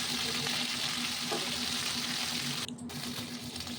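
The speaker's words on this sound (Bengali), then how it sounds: "এরকম করে আমি সব মাছগুলোকে একে একে ভেজে নেব।" Pomfret fish frying in hot oil, a continuous crackling sizzle with a steady hum beneath and a brief clatter near the end, no talking.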